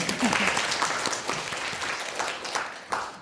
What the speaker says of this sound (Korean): 여러분 이럴 때 박수 한번 치시는 거 아닙니까?